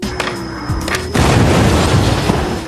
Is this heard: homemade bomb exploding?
yes